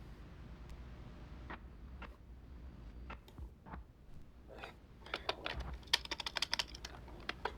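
Fingers tap on a computer keyboard, starting with sparse scattered clicks and building into a fast, dense burst of typing, close and fairly quiet with no talk.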